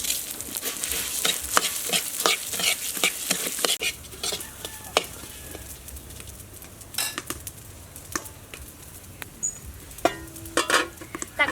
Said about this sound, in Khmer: ឥឡូវនេះខ្ញុំចាប់ដាក់ឆាអង្ករ